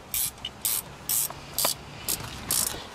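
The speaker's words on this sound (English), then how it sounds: "Now I'm going to tighten the bolts back up." A ratchet tightens the brake caliper bolts during a brake pad change, with six short, crisp clicking bursts in a steady rhythm, close and distinct.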